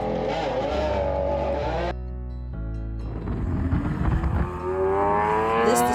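A Lamborghini Aventador's engine roars loudly up through the revs, drops briefly for a gear change, then climbs again with a rising, harmonic howl and crackle.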